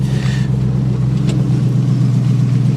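A 1973 Plymouth Scamp, a former flood car, idles steadily with a loud, close, low rumbling engine drone that holds constant throughout, with no talk over it.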